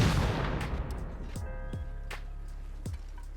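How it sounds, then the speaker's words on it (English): In the video game Rust, a rocket launches with a heavy roaring blast that fades into rumble, followed by several sharp, echoing bangs spaced out across the next couple of seconds. "I thought it'd be fun to try to shoot the one rocket I found out"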